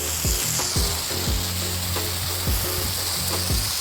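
Water sprays steadily to rinse deck cleaner off plants and grass outdoors, a loud, continuous broadband hiss with faint low thumps underneath.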